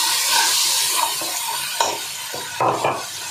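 Spices sizzle and crackle in hot oil in a pan, a steady close frying hiss with a few sharper pops and faint stirring scrapes, no voices.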